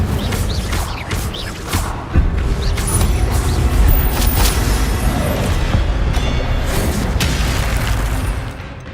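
The Incendio fire spell is cast in the video game Hogwarts Legacy. A loud, rumbling whoosh of flame swells after a couple of seconds, holds with crackling bursts, then fades toward the end.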